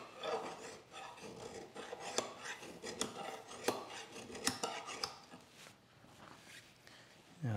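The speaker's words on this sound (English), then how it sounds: "just run the file over that surface and we'll see what we got" A metal file drawn across the sole of a hand plane, Luban or WoodRiver, clamped in place; repeated scraping rasps with sharp scratchy strokes, fairly close, alone without talk.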